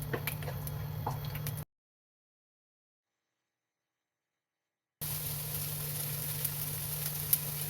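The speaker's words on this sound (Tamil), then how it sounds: "கொஞ்சம் எண்ணெய் விட்டுடலாம் இதில் அந்த பட்டை லவங்கத்தை சேர்த்துடலாம் இது கொஞ்சம் பொரியிற அளவுக்கு வறுத்துட்டு இதில் நம்ம வெங்காயத்தை சேர்த்துடலாம்" Cinnamon, cloves and onion fry in oil in a pan with a faint, steady sizzle that cuts out into a few seconds of silence and then resumes.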